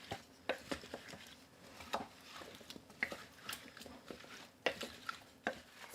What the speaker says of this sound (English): I'm going to give everything a good stir